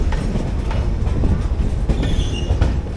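The Kacheguda Madurai Superfast Express rolls into Dharmavaram Junction with a loud, continuous close-up rumble, steady wheel clatter and faint metallic squeals over the top.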